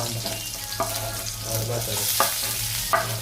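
Chopped onion frying and being stirred in a pan while cooking upma, a steady close sizzle with a few scraping strokes of the spoon, no talking.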